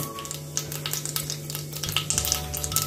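Hot oil with mustard seeds and cumin sizzles steadily in a pan as asafoetida is added, with light scraping of a spoon and scattered small crackles.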